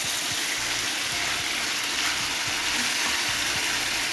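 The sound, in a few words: food being sautéed in a pan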